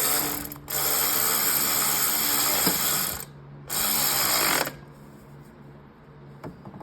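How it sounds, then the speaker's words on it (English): A hand ratchet with socket and extension tightens cylinder head bolts on a 2015 Honda Fit, giving two long bursts of rapid, close clicking separated by a short pause, then faint scattered clicks. "He's going in with the ratchet. See his socket and extension."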